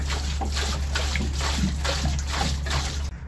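Water poured into a frozen-over narrowboat water tank through an open hatch, a close, steady splashing gush in repeated surges that stops abruptly at the end.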